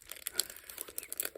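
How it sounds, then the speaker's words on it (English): Thin plastic packaging around paper clips crinkles and tears in quick, close, irregular bursts while being cut, with no talking. "I'm going to cut the plastic right here."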